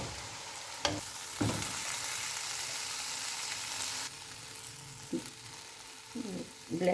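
Daal mash ingredients stirred and mixed in a pan with the heat just switched off, a soft continuous sizzle with a few scraping spoon strokes, close and moderately quiet.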